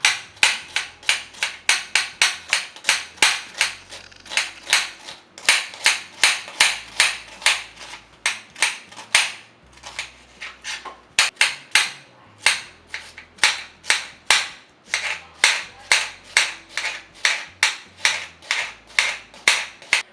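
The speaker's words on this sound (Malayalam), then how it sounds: "അപ്പം മസാല ഉണ്ടാക്കാൻ വേണ്ടി ഞാനൊരു 3 വലിയ സവാള എടുത്തിട്ടുണ്ട് കേട്ടോ. അപ്പോൾ അത് കട്ട് ചെയ്യാൻ പോവാണ്." Three large onions are chopped for a Malabar prawn biriyani masala, with rapid, crisp knife strikes on a cutting board in fast rhythmic runs and brief pauses, close and clear with no speech.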